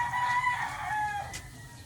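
Backyard chickens kept beside a house, with a rooster crowing in a long drawn-out call and hens clucking softly underneath, moderately close.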